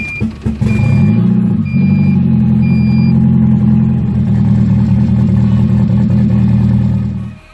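A turbocharged Honda Civic with a D16Z6 engine idling unevenly, a loud steady low drone with wavering tones and a few faint beeps over the first few seconds.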